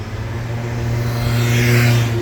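Cars descend the steep Fairmont hairpin at the Monaco street circuit, a low engine drone that swells steadily louder as a vehicle approaches, with no voices.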